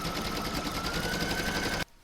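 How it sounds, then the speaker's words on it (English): An embroidery machine stitches the placement line for an in-the-hoop oven mitt through batting and fabric, a steady rapid needle chatter running loud and continuous for nearly two seconds before cutting off abruptly. "I'm going to load this into my machine now and stitch round number 1"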